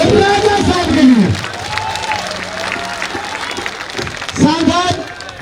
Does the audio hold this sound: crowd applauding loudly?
yes